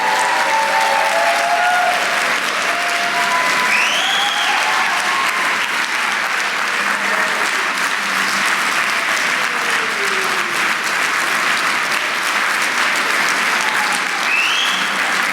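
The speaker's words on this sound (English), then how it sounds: "You're going to have to applaud them again in a second," Sustained, loud applause from an audience at an annual awards dinner, filling the room evenly throughout with only faint voices mixed in.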